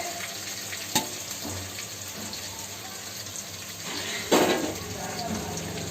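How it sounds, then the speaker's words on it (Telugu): Korameenu fish slide into hot oil with masala, giving a soft, continuous sizzle and bubbling, with a couple of clinks and a louder splash of frying midway. "ఈ చేపలన్నీ నూనెలో వేసుకోవాలి."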